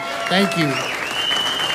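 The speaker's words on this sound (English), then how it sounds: "give her a round of applause" Audience applause at a comedy show, steady and fairly loud throughout, with a voice speaking briefly over it near the start.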